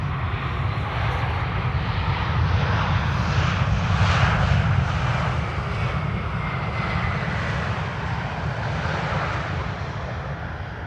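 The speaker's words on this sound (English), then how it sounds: "Qatar flight 273, Qatar Airways, arriving from Doha" Qatar Airways airliner arriving from Doha at Amsterdam Schiphol airport, a loud sustained jet roar that swells and then slowly eases as the plane passes, with no voices.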